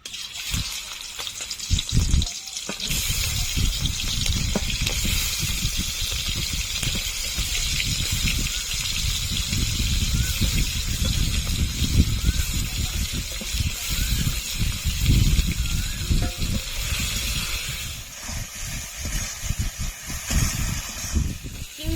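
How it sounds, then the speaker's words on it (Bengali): Fish fry noisily in hot oil in a pan for prawn and pointed gourd curry, a loud, sustained crackling sizzle with bursts of spitting, running steadily throughout. "এবার মাছগুলো ভেজে নেব"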